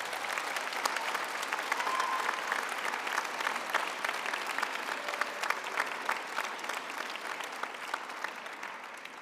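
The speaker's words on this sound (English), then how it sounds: "I would like to ask our graduates to applaud their families, friends, and spouses for the support." Graduates applauding their families and friends at a business school graduation ceremony, steady sustained clapping from a large seated crowd in a hall, fairly distant and even throughout.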